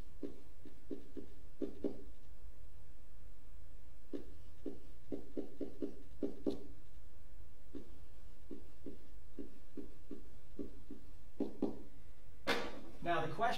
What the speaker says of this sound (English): So first I'm going to want to write down the 3 people.